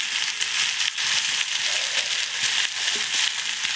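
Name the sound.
vegetables frying in a wok with ginger, garlic and spices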